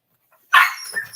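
A dog gives one loud, close bark that trails off into a short whimpering tail, heard alone in a quiet room.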